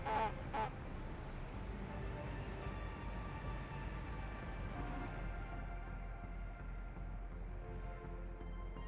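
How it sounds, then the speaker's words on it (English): A train horn in a Siberian railway simulator game gives repeated goose-like honks, two short blasts up front and then a steady tonal drone over a low engine rumble, fairly quiet. "I know what kind of vehicle horn it represents, but those honks sound like geese."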